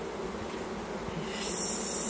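Honey bees from a swarm hum steadily around the hive, a dense continuous buzz close by with no voices, some workers fanning and scenting at the entrance to draw others in.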